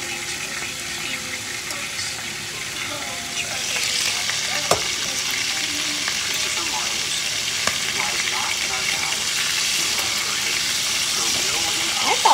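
Bacon sizzles in a frying pan during burger making, a steady, close, dense crackle and hiss that runs throughout, with a few sharper pops and faint background voices.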